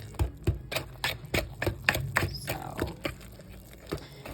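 Sweet potato muffin batter being mixed by hand in a bowl, with irregular thuds and soft taps of a utensil against the bowl, close and fairly quiet, no talking.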